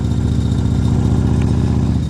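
A motorcycle engine idles steadily up close with a loud, even, throbbing rumble. The running engine carries noticeable vibration, and no one talks.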